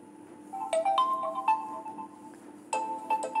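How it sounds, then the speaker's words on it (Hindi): A short melodic ringtone plays from a Realme C21Y phone in two bursts separated by a brief pause, tinny and moderately loud with no talking. "आपको रिंगटोन प्ले करके दिखा देती हूँ।"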